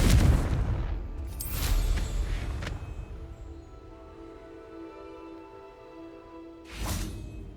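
Confringo spell blasts in Hogwarts Legacy, a few heavy booming explosions with whooshing bursts, loud near the start and again toward the end, separated by quieter rumbling ambience, with no talking.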